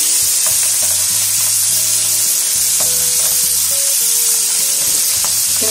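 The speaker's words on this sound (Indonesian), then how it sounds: "ini ikan tenggirinya mulai kita goreng ya teman-teman" Mackerel (tenggiri) fish frying in a small amount of oil, giving a steady close sizzle and crackle throughout with occasional utensil clinks, no talking.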